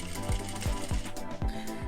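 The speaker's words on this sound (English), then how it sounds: "I'm going to start off with the back stitch." Sewing machine back stitching along a bias binding seam, a close, steady mechanical chug of needle strokes with rhythmic low thumps and whirring gears, no talk.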